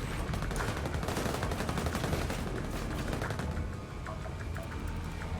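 Rapid, continuous automatic gunfire from a missile launcher in an online shooter game, loud and sustained for several seconds with dense overlapping bursts, easing slightly near the end.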